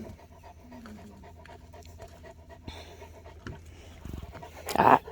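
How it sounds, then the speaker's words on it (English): A large, powerful dog pants rapidly and heavily right up close, and the breathing grows louder and rougher toward the end with a brief huff. "He's a big old beast of a dog."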